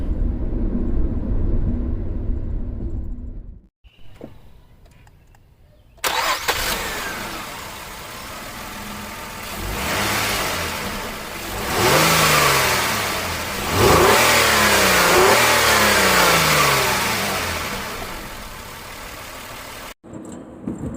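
An Infiniti I30 T with a 5-speed manual cranks and catches, then settles into a smooth idle before several rising revs and drops. The exhaust stays fairly quiet and subdued, heard close with no talking.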